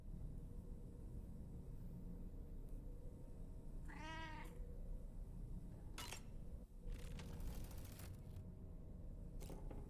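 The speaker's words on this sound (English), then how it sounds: "I could hear the cat but not see it" A single clear cat meow rises and falls once in a video game, near and distinct over a steady ambient background, followed by a few sharp clicks.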